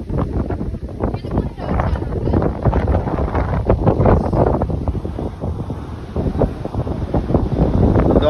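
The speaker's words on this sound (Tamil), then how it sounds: "பயங்கரமான காற்று இங்கேயே." Strong wind at a beach in Chennai buffets the microphone in loud, rumbling gusts throughout, with a low roar like surf beneath it.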